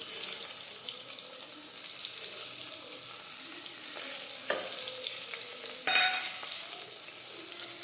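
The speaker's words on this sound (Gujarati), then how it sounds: "હવે આપણે તેમાં રાઈ નાખી દઈશું, હિંગ નાખીશું, સમારેલા તુરિયા નાખીશું, સમારેલા ટમેટા નાખીશું," Mustard seeds, asafoetida, chopped ridge gourd and chopped tomato frying in hot oil give a soft, steady sizzle with light stirring and a couple of sharp clinks, fairly quiet.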